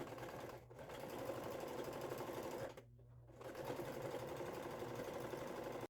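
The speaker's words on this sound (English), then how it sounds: "We've got red thread loaded, and I'm ready to start sewing." A sewing machine runs bursts of fast stitching with red thread, sewing trim onto a fabric advent calendar, its rapid mechanical whir close and steady, broken by one brief pause midway.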